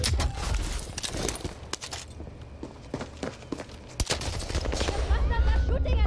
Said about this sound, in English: these two people are shooting me at once